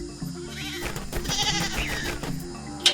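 A sheep bleats in a video game where animals are fought with different weapons, a wavering call over a busy, layered game soundtrack with a sharp click near the end.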